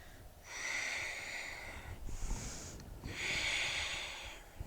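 Two long, breathy exhales from a person practising yoga during the Tibetan Rites, each a steady hiss lasting over a second, separated by a short inhale, close and quiet in a still room.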